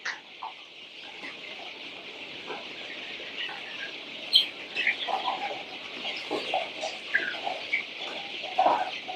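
A group of 22-day-old Sasso breed chicks from France chirp and cluck together in a busy, overlapping chorus, with bursts of peeping rising over a constant background murmur.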